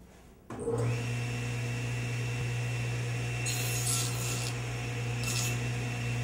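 A saw rasps steadily through wood cutting a tenon joint in close, continuous strokes, taking little off, a gritty scraping texture with a low hum underneath.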